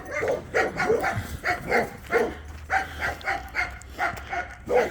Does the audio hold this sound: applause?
no